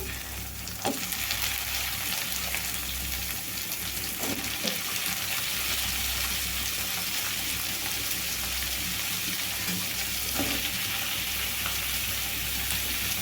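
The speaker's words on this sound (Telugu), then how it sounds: "ఇప్పుడు కట్ చేసి పెట్టుకున్న వాటర్ ఏమి రాకుండా వంకాయ ముక్కలని అయితే వేసుకోవాలండి" Eggplant pieces fry in hot oil in a pan for a tomato curry, a loud continuous close sizzle with a few scattered clacks of stirring.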